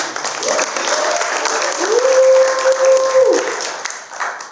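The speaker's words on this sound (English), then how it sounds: "Let's clap for Christy." Audience applause at the High Value Channel Conference 2024: a dense, steady wash of many hands clapping fills the room, with a faint sustained tone running through the middle of it.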